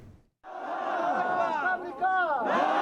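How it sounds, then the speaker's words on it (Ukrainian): Protest crowd of hundreds marching from Wardak province toward Kabul, Afghanistan, shouting slogans against America: a dense mass of voices chanting and yelling in unison, loud and sustained after a brief pause. "З вигуками смерть Америці сотні учасників протестів нещодавно пройшли з афганської провінції Вардак у столицю Кабул."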